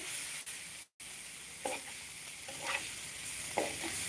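Thai curry paste stir-frying in a pan, giving a low steady sizzle with a few soft scraping stirs and one brief dropout, quiet and without talk.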